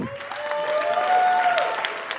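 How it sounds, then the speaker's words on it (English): Steady applause from an audience at a coding bootcamp demo day in Tokyo fills the whole moment, a dense wash of clapping at moderate loudness with a whistle-like tone running through it. "Let's give her a big round of applause."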